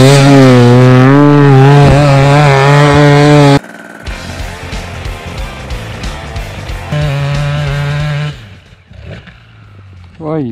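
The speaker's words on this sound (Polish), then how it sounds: "mamy KTM-a na hamowni" Loud KTM motorcycle engine revving hard on a dynamometer, a rising and falling harmonic roar that drops to a rougher idle midway, surges again, then winds down near the end.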